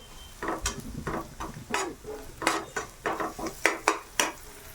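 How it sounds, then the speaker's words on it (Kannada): Onions sautéing with sugar in a pan are stirred briskly, a quick run of close scraping and clacking spoon strokes over a faint sizzle. "ಈರುಳ್ಳಿ ಬೇಯುವವರೆಗೂ ಚೆನ್ನಾಗಿ ಬಾಡಿಸಿರಿ"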